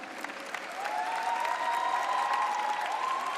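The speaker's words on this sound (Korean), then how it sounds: "준우승자에게 큰 박수 부탁드립니다" Audience applause for the runner-up at a StarLeague 2016 Season 2 esports final, a dense, steady clapping crowd that swells after the first second and continues alone with a sustained tone underneath.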